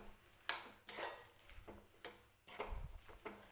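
Beetroot laddu mixture with cardamom powder worked around a pan, soft scraping and stirring strokes with occasional spoon knocks against the metal, faint and close.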